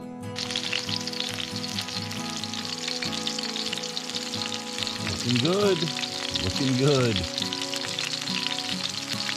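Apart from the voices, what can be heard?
food frying in hot oil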